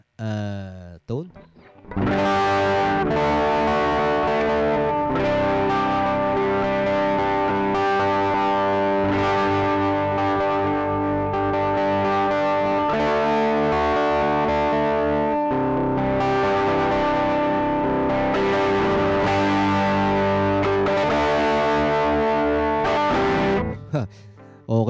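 An electric guitar plays through a Joyo Baatsin overdrive pedal with the tone turned fully up, giving sustained, distorted, harmonically rich chords and notes for about twenty seconds and then a sudden stop.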